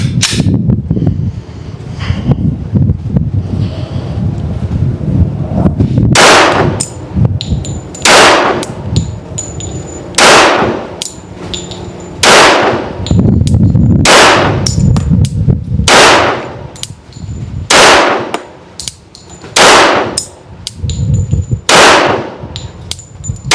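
Glock 21 pistol fitted with a red dot sight fires about ten sharp, loud single shots at slow, fairly even intervals, each with a quick bright crack and short ringing decay over steady outdoor background noise.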